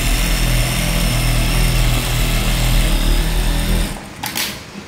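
An original Juki sewing machine in fresh condition runs with a steady, loud mechanical hum and rapid stitching rattle, then stops abruptly near the end, leaving a few faint clicks.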